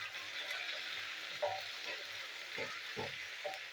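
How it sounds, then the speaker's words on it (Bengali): Potato and taro chunks sizzle in a pan with ginger and green chilli paste, a steady hiss of frying broken by a few soft stirring scrapes, close and without speech. "এটা ভালো করে ভেজে নেবো।"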